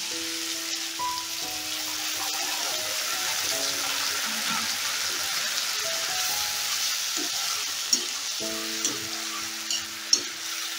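Ginger garlic paste frying among softened vegetables in a pan, a steady soft sizzle with stirring scrapes and a few sharper clicks near the end, no talk.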